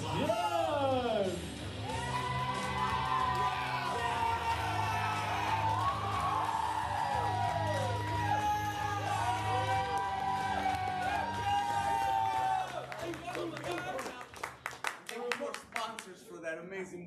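A live studio audience at a variety show claps and cheers loudly in a sustained burst with whoops, while a host's amplified voice talks over it. The applause fades near the end into a few scattered claps.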